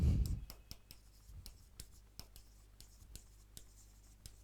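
Marker or chalk tapping and scratching across a classroom board during a lecture on India's tiger reserves, a steady run of sharp ticks and short strokes, close and fairly quiet, without speech.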